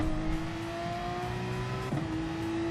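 Porsche race car in a Gr3 racing game at the Autodromo Nazionale, engine revving hard and climbing in pitch, with a brief dip for an upshift near the end before it pulls again, loud and steady throughout with no talk.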